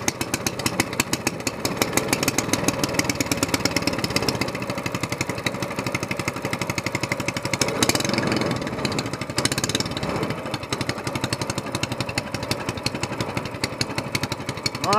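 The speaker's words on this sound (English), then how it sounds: "Carburetor choked. Engine on." A small engine with a longtail exhaust header chugs with rapid, regular pulsing, running steadily and loud throughout with brief surges in intensity.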